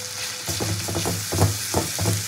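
Ginger garlic paste hits onion and tomato already browned in ghee, setting off a steady, close sizzle with a few louder crackling bursts and stirring scrapes; no one speaks.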